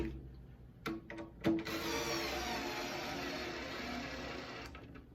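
A power drill driving screws whirs steadily for a few seconds after a couple of short clicks and bursts, running continuously at close range.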